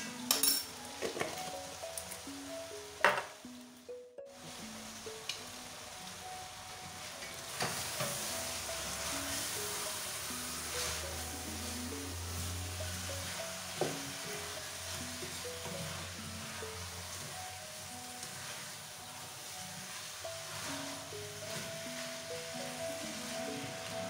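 Food sautéing in a pan with salt just added, giving a continuous close sizzle and hiss, with a few clinks of a utensil against the pan near the start and a brief gap in the sound.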